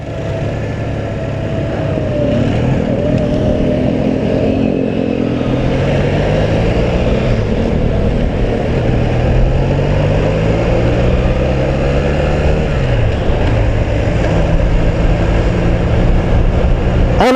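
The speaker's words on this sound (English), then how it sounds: "It's like I don't hate the motorcycle anymore because the shifting has vastly improved." A classic motorcycle ridden along, its engine droning loud and steady with rising pitch sweeps as it revs through each gear and drops at the shifts.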